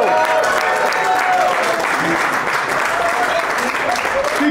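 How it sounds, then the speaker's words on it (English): Steady applause from an audience at a community gathering, dense and continuous clapping filling the room at even loudness throughout, with some voices faintly mixed in. "Keep clapping, guys. Keep clapping."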